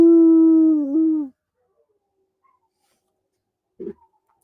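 A dog howls one long, loud, wavering note close by, which breaks off abruptly, followed by a brief faint whimper after a pause; no sirens are audible.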